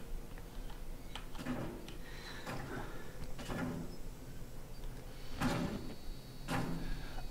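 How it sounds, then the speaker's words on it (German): A door creaks open in the horror game Outlast Whistleblower, a few muffled thuds and scrapes spread across a low ambient rumble, fairly quiet throughout. "Aber die Tür geht auf."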